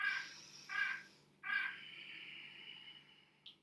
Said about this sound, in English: Sorry for the bird clock interruption.